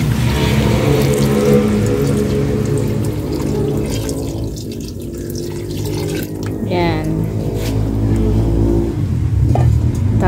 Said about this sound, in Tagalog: So, pwede na natin ilagay itong ating creamy na gata.